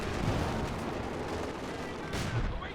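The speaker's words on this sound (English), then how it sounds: "the double Firefly 6-pounder effectively pushes back the Panzer IV" Tank cannon and gunfire from Company of Heroes 2, Firefly tanks with 6-pounder guns firing on a Panzer IV, a dense wash of battle noise with heavier booming hits near the start and again toward the end.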